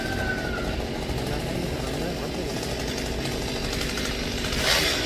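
A small top-handle chainsaw, a Stihl MS-192T, cuts high up in a large royal palm, whining and buzzing continuously under a busy outdoor background, its pitch rising slightly toward the end as the cut deepens; voices talk over it.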